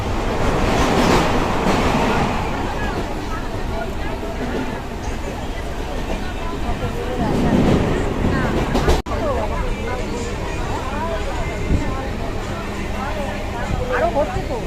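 Train and rail rumble with a low, continuous roar and a busy mid-range wash, plus a brief sharp thump near nine seconds, as someone walks home after getting off a train.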